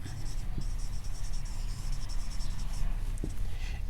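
Writing on a board during a vector calculus lecture: steady scratching and tapping strokes, close and fairly quiet, running continuously over a low room hum with no talking.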